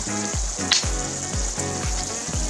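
Purple biko, a sticky rice cake, is stirred in a pan over a steady frying hiss, with a string of regular thick, soft, thudding strokes up close and no voices.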